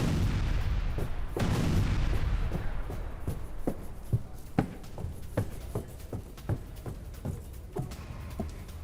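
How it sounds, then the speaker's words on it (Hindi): Explosions from a YK-1000 hypersonic missile attack simulation on Japan: a heavy rumbling blast early on, followed by a steady series of sharp booming impacts at regular intervals, loud and continuous, with no speech. "YK-1000 मिसाइल से जापान पर हमले का एनिमेशन"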